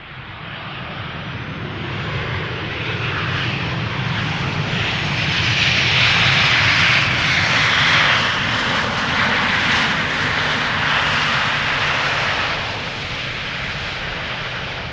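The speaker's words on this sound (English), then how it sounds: "KLM Flight 1002, arriving from London Heathrow, 737-800" A KLM Boeing 737-800 jet arriving at Schiphol on a flight from London Heathrow roars steadily overhead. Its engine noise swells to a loud peak mid-pass and then eases slightly as it moves on.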